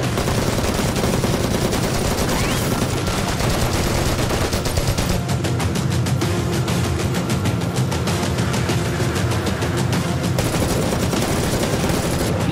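Dense automatic gunfire and overlapping rifle shots crackle through a film battle scene, loud and continuous for the whole stretch, with bursts layered over constant explosive noise and no clear talk.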